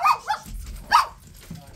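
Dogs barking at home around a porch, a few sharp barks and yips close by in short bursts, with faint voices in the background.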